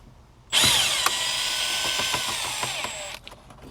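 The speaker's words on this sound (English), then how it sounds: "4 more screws to take off." A cordless power tool drives screws out of the dashboard of a 2021 GMC Sierra AT4 pickup, starting with a sharp burst, then a steady whirring with ratcheting clicks for about three seconds before stopping, close up with no talking.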